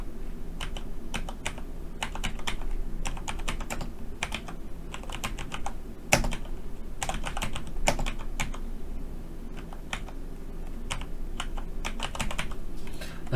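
Fast continuous typing on a computer keyboard, with rapid close key clicks in uneven bursts and a few heavier keystrokes, steady for over ten seconds with no talk.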